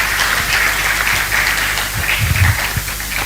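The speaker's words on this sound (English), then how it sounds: "Please, let's give Prof another round of applause." An audience at a national stakeholders' dialogue on district-level elections gives a speaker another round of applause, a dense and loud wash of clapping that holds steady for a few seconds.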